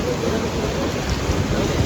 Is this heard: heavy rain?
yes